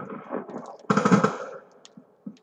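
A Weevil submachine gun in Call of Duty: Black Ops 3, fitted with a grip and no suppressor, fires a short rapid burst, loud and close, preceded and followed by quieter game sounds.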